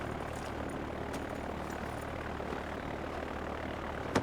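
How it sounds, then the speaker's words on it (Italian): A fixed-wing airplane drones steadily on the runway before takeoff in the Far Cry 4 video game, a constant engine roar filling the scene with no voices. "Quello nell'aereo che sta per decollare"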